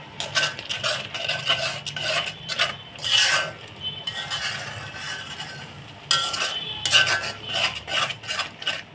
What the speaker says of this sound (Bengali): মশলাটা খুব ভালো করে কষিয়ে নিতে হবে